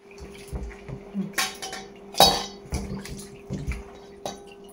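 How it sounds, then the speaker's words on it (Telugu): Bitter gourd pieces being washed by hand in a bowl of water, with close sloshing splashes and clinks against the bowl in uneven bursts. "వాష్ చేసుకున్నాక వేరే గిన్నెలో మళ్ళీ ట్రాన్స్ఫర్ చేసుకుని ఒక 2 సార్లు మనము ఇట్లా వాష్ చేసుకోవాలి"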